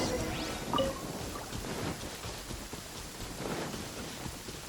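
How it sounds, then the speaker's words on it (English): A thunderstorm in the video game Genshin Impact brings a steady hiss of dense rain, with a low rumble of thunder near the start. "Uh-oh! Lightning storm!"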